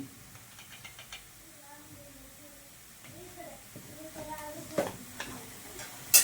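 Poha frying in a hot pan with turmeric just added, soft sizzling and spoon scrapes under someone talking, with a few sharper clinks toward the end.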